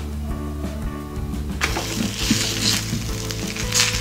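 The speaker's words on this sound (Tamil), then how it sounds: "சப்பாத்தி நல்லா வேகட்டும்" Chapati cooking with ghee on a griddle, a low hum first, then a bright, close sizzle flaring up as the ghee hits the hot surface and crackling on steadily.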